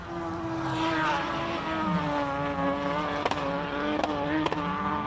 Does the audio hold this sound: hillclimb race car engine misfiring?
yes